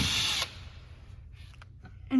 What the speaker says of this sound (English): Not only can it just drill in, but if you switch directions, it can drill out.